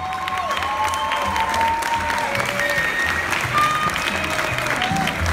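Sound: audience applause for the dance couple

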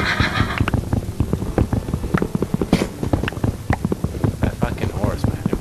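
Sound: horse neighing in Minecraft video game

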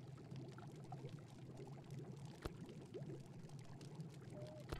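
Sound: water being collected into a jar in a video game

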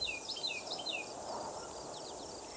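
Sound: crickets chirping in coastal Georgia marshes

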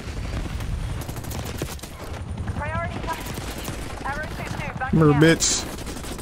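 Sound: hip-fire gunshots in Black Ops 6 video game

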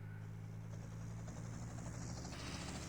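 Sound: helicopter in video game GTA Vice City

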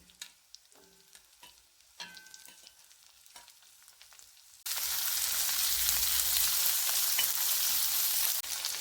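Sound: onions sautéing in pan for bitter gourd theeyal

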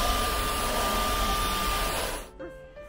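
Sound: vacuum cleaner

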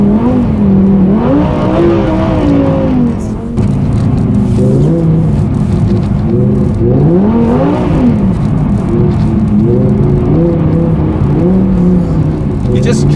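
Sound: Lamborghini drifting on ice

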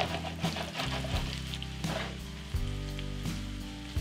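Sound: potatoes frying and basted with hot oil in a pan

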